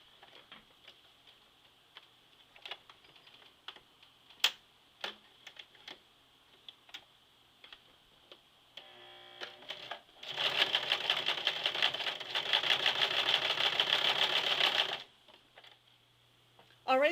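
A sewing machine stitches down the top of a jeans waistband during a zipper replacement, running in a steady, loud, fast rattling burst for several seconds after scattered ticks and clicks.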